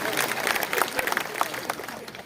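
Audience at a public political rally breaking into applause, a dense burst of clapping that rises and then tapers, with a voice speaking over it.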